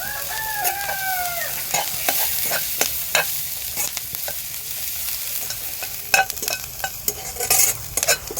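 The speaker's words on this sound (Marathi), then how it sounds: "हा कांदा आपल्याला ना लालसर होईपर्यंत असा भाजायचा" Onion frying in oil with garlic, stirred with a spoon, a steady sizzle with repeated scraping stir strokes, and a rooster crowing in the background near the start, no talking.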